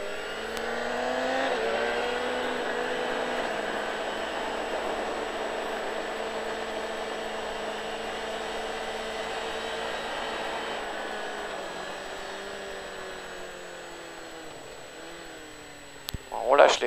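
A motorcycle engine drones steadily at a distance as it accelerates out of a corner, rising slightly early on before easing off as it pulls away, with a brief clatter near the end.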